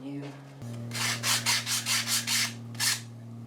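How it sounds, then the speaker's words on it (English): Sandpaper on a block rubs against rough wooden edges in about eight short, rhythmic strokes, close and clear over a steady low hum. "I'm not going crazy on the sand because I'm going to eventually have to re-sand."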